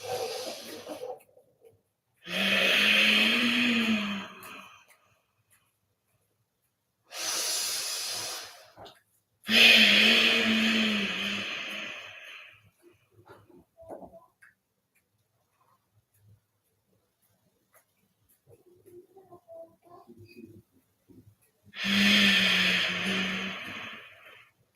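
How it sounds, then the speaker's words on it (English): Long, deep breaths during a Kundalini yoga session: four loud, drawn-out breaths, each a rushing inhale or exhale lasting two to three seconds, separated by quiet pauses, close to the mic with no talking. "breathing here long and deep"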